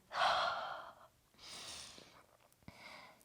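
Deep breathing during a full-body yoga flow for flexibility: a long loud exhale, then a softer second breath and a short third one, close and alone without talk.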